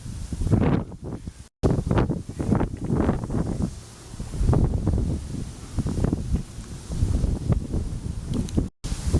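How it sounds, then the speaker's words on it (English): Strong wind on a steep mountain trail on Mount Katahdin buffets the microphone in loud, rough, continuous gusts that rise and fall, with no voices. "The wind is really blowing."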